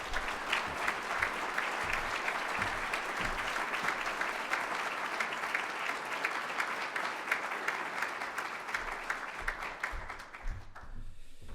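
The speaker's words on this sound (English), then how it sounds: "Big round of applause for my good friend Jackie Winters" A community breakfast audience gives a long round of applause for Jackie Winters, dense steady clapping from a crowded room that fades out at the end.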